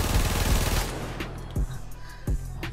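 A Braton Prime rifle in the Warframe video game fires a rapid burst, then a few separate tapped shots, with a steady low game hum underneath.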